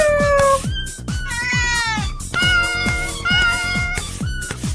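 A cat meows repeatedly up close, several loud, drawn-out, rising and falling cries in quick succession with short gaps between them, heard alone without talk.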